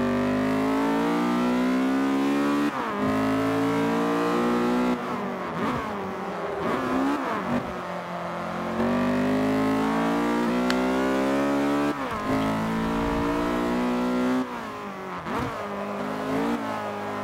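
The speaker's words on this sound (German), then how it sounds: "Nach wie vor schöner Klang. VTEC Power." A racing car engine with VTEC in Forza Motorsport 5 revs hard and continuously, its loud, tonal drone climbing repeatedly through the gears with brief drops at each shift, steady over the whole stretch without any voices.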